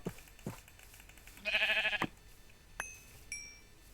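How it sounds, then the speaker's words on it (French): A few short sheep bleats in a video game, one louder and drawn out, rise among small clicks and thuds. "Ce sont mes moutons"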